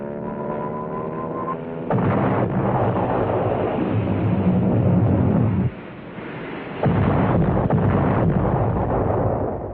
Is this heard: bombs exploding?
yes